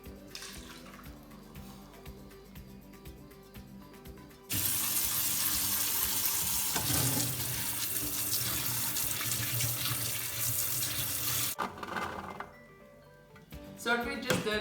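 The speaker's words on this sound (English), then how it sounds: "we cleaned the chickpeas off underneath the sink with just normal water" Sink tap water runs loudly and steadily while chickpeas are rinsed under it, a sustained broadband rush lasting several seconds before cutting off, with quieter kitchen sounds around it.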